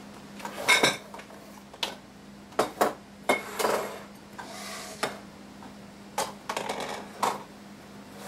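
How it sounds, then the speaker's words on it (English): A spatula spreading pumpkin cake batter in a pan, with intermittent close scraping and clinking taps of utensil against metal, scattered irregularly with soft pauses between. "I'm going to spread the cake in the prepared pan"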